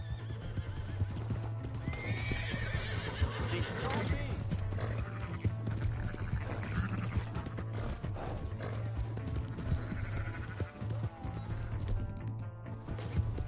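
Horse hooves clip-clop steadily and a horse neighs in the Red Dead video game, under a constant low engine-like drone and game effects, with voices talking over it.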